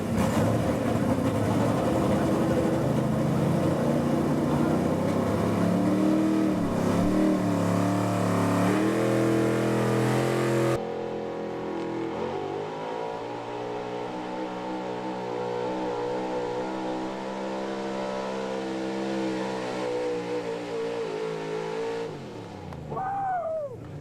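A 1984 Chevy pulling truck at a truck and tractor pull roars at high revs, a loud harmonic engine drone that climbs and wavers, drops to a steadier lower pitch midway, then surges again at the end.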